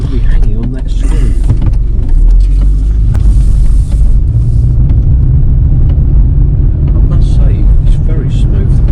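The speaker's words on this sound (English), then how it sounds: "we'll take this thing for a little test drive" A Mercedes W203 C-Class with a 722.6 automatic transmission drives on a test run, giving a steady low engine and road rumble throughout, close and loud from inside the car.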